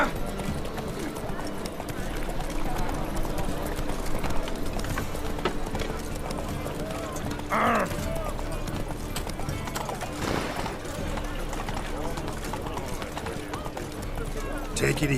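Roach the horse in The Witcher 3, hooves clip-clopping in a steady trotting rhythm close by, with occasional snorts or whinnies and a voice speaking over the hoofbeats.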